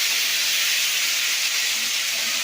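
Steady loud hiss of ground mustard and green chili paste hitting hot oil in a pan while being stirred, a continuous close sizzle with no talk.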